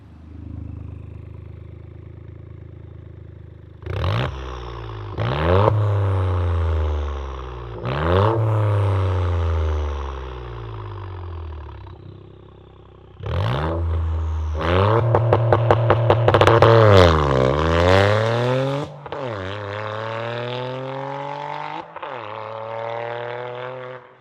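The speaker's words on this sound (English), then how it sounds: "this exhaust does sound great" A Toyota GR Corolla with an aftermarket catback exhaust revs up repeatedly, rising and falling in pitch with a deep raspy exhaust note, close and loud, including a burst of rapid throttle blips.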